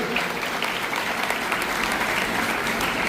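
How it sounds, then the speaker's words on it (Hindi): A devotional gathering honouring a devotee's birthday fills with loud, dense audience applause, steady and sustained throughout without a pause. "ऐसे भक्त के लिए एक बार जोरदार तालियां बजाइए"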